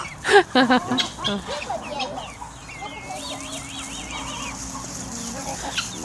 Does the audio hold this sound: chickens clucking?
yes